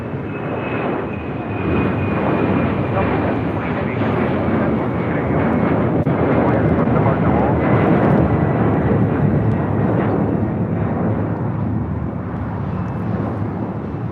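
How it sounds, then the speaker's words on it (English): A Delta Air Lines Boeing 767-400ER takes off from runway 25 right at Los Angeles International for Atlanta, its jet roar swelling up after a quieter start and holding loud and broad for the rest of the takeoff. "This is Delta Airlines 720 taking off to Atlanta on a 767-400 ER."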